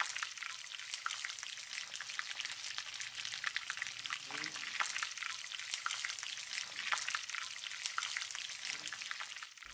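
Sesame seeds roast in a pan in a home kitchen in Hue, giving a soft, continuous crackling sizzle with occasional stirring scrapes. Faint voices are present.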